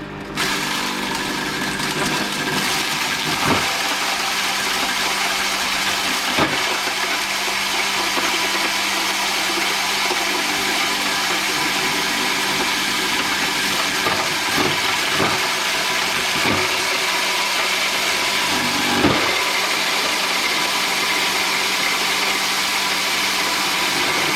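A KR-02TA electric feed grinder, which mills whole corn cobs, runs with a loud, steady motor drone and occasional sharp knocks and clunks over nearly half a minute.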